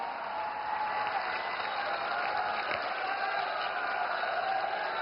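A large crowd at a public event in Dwarka applauds to welcome Prime Minister Narendra Modi, a sustained, even wash of clapping that runs the whole time without pause.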